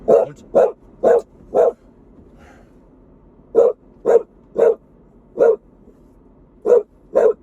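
A dog barks close by in two bursts: four sharp barks, a pause, then six more spaced barks, loud against a quiet room.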